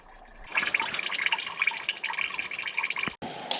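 Coolant draining from a radiator after its drain plug is pulled, a close, steady trickling and dripping of liquid that runs continuously before cutting off briefly near the end.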